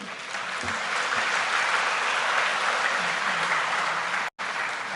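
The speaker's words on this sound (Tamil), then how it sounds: "நீங்கள் கைதட்டுறீங்க" A large audience applauds steadily and loudly for several seconds, a dense continuous clapping that cuts off abruptly near the end.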